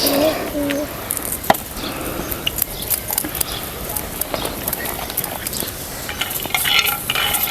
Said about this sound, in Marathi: आता ह्याच तव्यामध्ये जरा शेंगदाण भाजून घेऊया